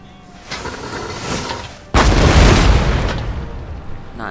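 Artillery fire in the Napoleon: Total War video game: a dull rumbling boom builds, then a loud cannon blast cracks out near the midpoint and rolls away in a long decaying roar.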